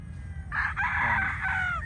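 A gamefowl brood stag rooster crows once, a clear, fairly near cock-a-doodle-doo lasting about a second and a half over quiet background hum.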